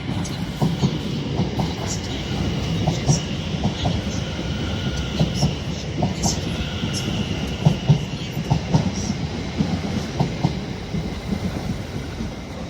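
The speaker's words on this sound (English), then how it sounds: "Arriving in now is yet again another Greater Anglia service from London Liverpool Street, this time to Ipswich." A Greater Anglia train from London Liverpool Street to Ipswich pulls into Stratford station on the Great Eastern Main Line, its wheels clacking rhythmically over rail joints, loud and close, with a steady rumble beneath.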